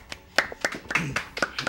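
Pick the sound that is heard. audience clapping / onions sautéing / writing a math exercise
audience clapping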